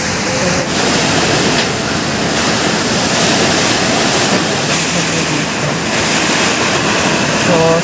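Loud, constant roar of typhoon-force wind and heavy rain in Tayabas, Philippines, a dense rushing wash with no pauses, close and overwhelming.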